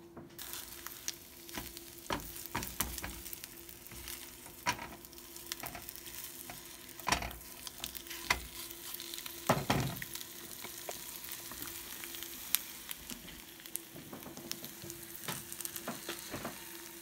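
Eggs frying in avocado oil and butter, a continuous sizzle with scattered pops and occasional stirring or utensil scrapes, close and alone with no talk.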